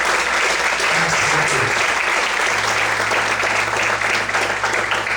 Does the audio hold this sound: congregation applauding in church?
yes